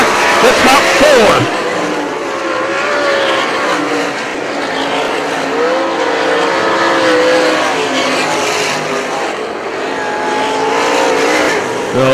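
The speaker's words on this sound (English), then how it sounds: "Hahn looking at low groove, looking to get underneath the 34 of Cobes and crack the top four." Sprint cars roar around a dirt track in a UMSS race, a loud continuous engine drone with pitch shifts as cars pass, under an announcer's running commentary.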